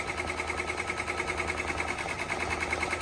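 A Brother embroidery machine, a 1055X or PR670e set to slow, runs with a fast, even mechanical chatter that is steady and fairly quiet throughout.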